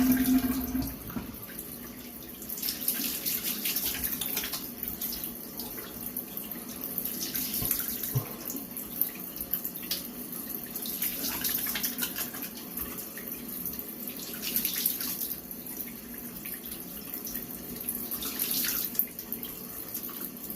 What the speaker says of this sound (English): I'm gonna go ahead and do a cold water rinse